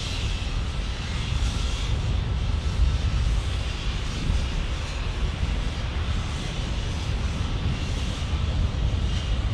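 Steady, loud roar of a United Airbus A321neo jet's engines at San Diego airport, a continuous broadband rush with wind buffeting, holding level throughout with no voices.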